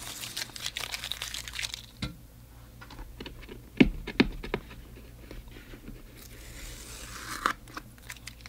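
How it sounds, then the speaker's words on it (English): Masking tape being peeled off the edges of a landscape painting of a farm, a series of close, sharp crackles and tearing snaps in short irregular bursts against a quiet room background, no speech. "Take the tape off here."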